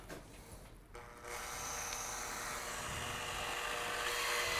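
A power drill whines steadily, its pitch rising as the bit bores into a wooden chair arm, after a brief lull near the start.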